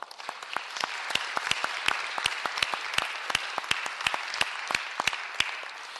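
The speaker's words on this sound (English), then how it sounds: "I want to give all of them a round of applause." Audience at a public works board meeting breaks into applause, a steady patter of many hands clapping at moderate distance for several seconds, lively but not thunderous.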